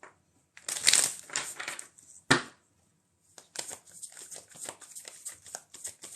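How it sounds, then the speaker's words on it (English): A deck of tarot-style reading cards being shuffled up close in loud, crisp riffling bursts, first with a sharp snap and a pause, then a longer run of rapid flutters, and no talking. "I've got to shuffle the cards, shuffle the deck"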